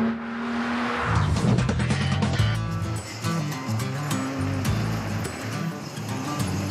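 A car engine revving while driving, loud and close, with a changing harmonic drone as the revs climb and shift, steady throughout without talk.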